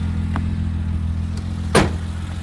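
A 1989 BMW 325iS E30 idles while warming up, holding a steady low engine hum with a single sharp click or thump partway through.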